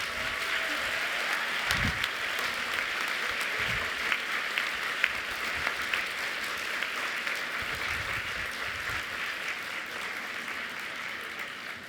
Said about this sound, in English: I want you to give a big round of applause to all these people who've